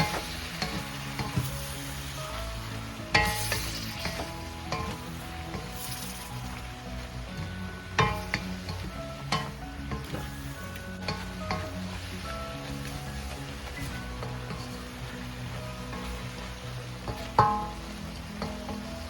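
Saucy pancit canton egg noodles stir-fry being stirred in a pan, sizzling steadily with repeated scrapes and clacks of the utensil, fairly close, with faint music underneath and no talking.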